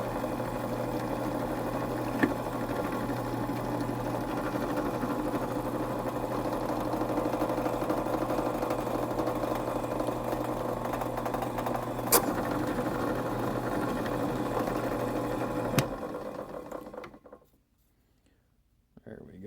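A drilling machine runs with a steady mechanical hum while boring a hole for a pocket knife, holding a constant drone with a few sharp clicks before spinning down to near silence.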